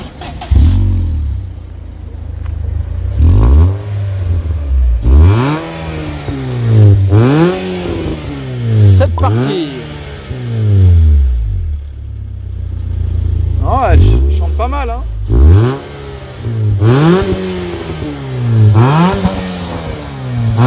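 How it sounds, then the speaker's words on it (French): A Peugeot 406 car engine starts and revs repeatedly, rising and falling in pitch every couple of seconds, loud and close, with people talking faintly underneath. "Bon bah Daniel, tu peux nous démarrer la 406. On va écouter le son"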